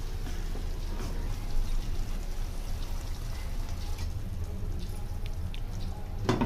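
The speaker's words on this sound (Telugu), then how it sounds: "కలిపిన తర్వాత దానిలో కొంచెం నీళ్ళు కూడా పోసుకోవాలండి" Water is poured into garlic chicken cooking in a pan, giving a steady hissing, bubbling wash of sound close by that runs without pause throughout, with no talking.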